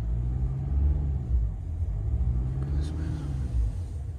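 Mercedes or BMW luxury car at a dealership, its engine starting and being revved: a low rumbling idle that swells and settles in a few gentle surges, heard up close.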